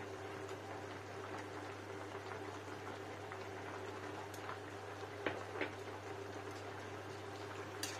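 Vegetarian okra curry bubbles in a pan over lowered heat, a quiet steady simmer with occasional small pops and sputters and no talking.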